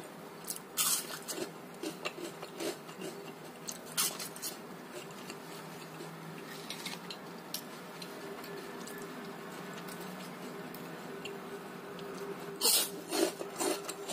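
Crunchy bites into a crispy fried snack, a few bursts of crackling chews spaced across a quiet indoor background, with no talking.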